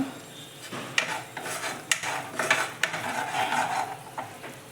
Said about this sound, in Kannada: ಸ್ವಲ್ಪ ಇದು ಕಲಿಸ್ಬೇಕು ಗಟ್ಟಿ ಆಗುತ್ತೆ ಎಣ್ಣೆ ಬಿಟ್ಕೊಳ್ಳುತ್ತೆ